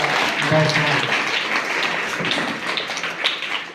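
An audience at a religious gathering claps together to welcome a revered guru, a dense, steady patter of hands that stays fairly loud and eases slightly toward the end.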